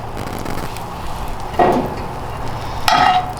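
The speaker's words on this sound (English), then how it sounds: "I'm just gonna put 2 tablespoons of butter and let that kind of work around the skillet" Two tablespoons of butter sizzling in a hot skillet, a steady low frying hiss close by with two brief louder flares as it bubbles and spreads across the pan.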